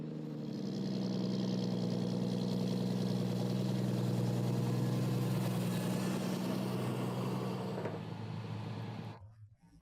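A Claas Xerion tractor's 8.8-litre six-cylinder Caterpillar engine runs at a steady, loud, deep drone close by for several seconds, then winds down and cuts out near the end.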